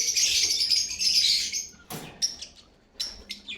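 Lovebirds, blue pastel splitino breeder pair, chirping in a breeder cage: a dense stream of shrill chirps and tweets for the first half, then a sharp flutter and scattered short calls, close and fairly loud.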